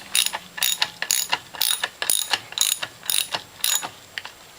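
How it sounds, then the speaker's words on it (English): Bolts being tightened down on a Norwalk juicer with a ratchet, giving a steady series of about nine quick, close clicking bursts in regular rhythm, with no talking. "And we tighten down the rest of the bolts."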